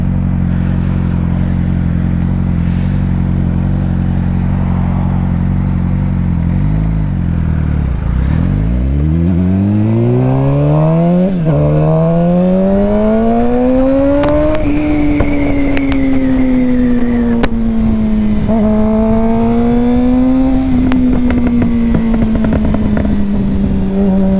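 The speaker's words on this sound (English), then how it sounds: "Bike sounds amazing right now." A scooter ridden through town at night: a loud, close engine idles, dips, then revs up in rising sweeps and holds a steady drone while moving.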